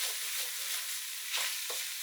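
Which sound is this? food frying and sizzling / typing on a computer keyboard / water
food frying and sizzling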